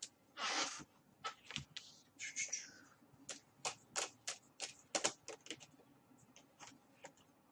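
Tarot cards from a Rider-Waite deck are handled and shuffled in a lap, giving a quick run of crisp taps and flicks, close and fairly quiet with a brief rustle near the start.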